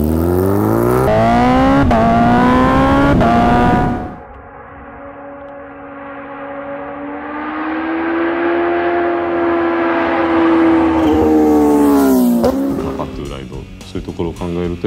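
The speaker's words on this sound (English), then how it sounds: "Attaching a centrifugal supercharger directly to a motorcycle engine was a unique approach to this project." A supercharged Kawasaki Ninja H2R motorcycle engine, rated at 310 horsepower, revs loudly and close, rising in pitch through the gears, dropping to a steady drone, then climbing again to a high scream before cutting off with crackles.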